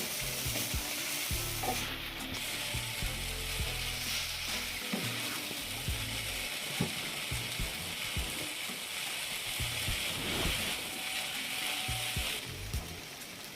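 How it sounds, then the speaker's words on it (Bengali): Boiled noodles are tossed and stir-fried with vegetables in a pan, a steady close sizzle under repeated scraping and clattering spatula strokes throughout, with no voices. "নুডলসগুলো সবজির সাথে মিশিয়ে নিচ্ছি"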